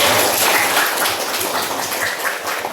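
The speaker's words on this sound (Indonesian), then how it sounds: "Tepuk tangan untuk saya." A brief round of clapping from students in a classroom, steady and fairly loud for a few seconds with no voices over it.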